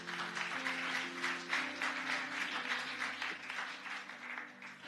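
A church congregation applauds and cheers together in a sustained, even wash of clapping, moderately distant, with a low organ-like tone held underneath.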